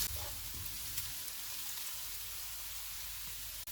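Spring onion and carrot sauté over medium heat in oil, giving a soft, steady sizzle that runs the whole time at low volume, with no voices.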